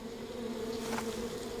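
A steady, close buzzing of bees disturbed by bear cubs, a continuous droning hum with no pauses.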